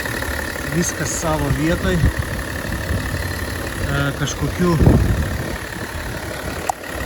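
A BMW X3 M40d with a 3.0-litre diesel engine, about 136,000 km on it, idles steadily under an open bonnet while someone talks close by during an inspection.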